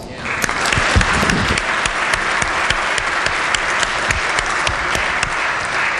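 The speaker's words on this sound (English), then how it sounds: "I would ask everybody to give her a big round of applause" Loud, sustained applause fills a state legislature chamber, many hands clapping in a dense, steady roar with sharp individual claps standing out near the microphone.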